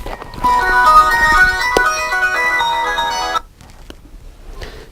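A telephone ringtone plays a bright, melodic electronic tune during a Korean news talk show, loud for about three seconds before it cuts off, leaving faint background noise.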